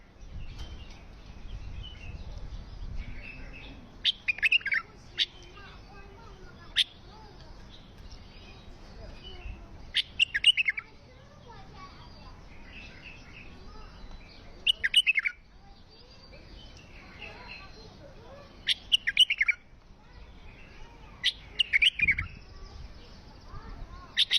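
Bursts of songbird chirping and trilled phrases come at intervals over a quiet background hum, bright and fairly close.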